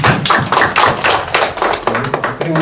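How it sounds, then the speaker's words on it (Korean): Audience applauding at a Korean-Chinese community association forum, a dense burst of hand claps close by and fairly loud, continuing steadily through the clip with a few voices underneath near the end. "한번 박수 주세요."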